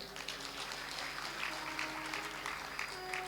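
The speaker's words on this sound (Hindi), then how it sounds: "तो तालियां बजा दीजिए एक बार और" A seated gathering at a religious talk gives a round of soft, distant applause, fairly faint and steady for a few seconds with a light murmur beneath.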